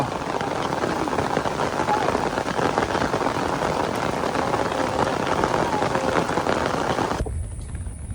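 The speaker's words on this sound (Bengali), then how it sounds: "বৃষ্টি শুরু হয়ে গেছে" Steady rain pours down in a rural outdoor spot during a fishing trip, a dense continuous hiss that carries for about seven seconds before abruptly cutting to near-quiet.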